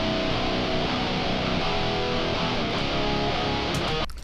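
Unprocessed baritone guitar rhythm parts tuned down to low B, thick and dense chugging chords played loud and continuous, then cutting off sharply at the end, with no talking.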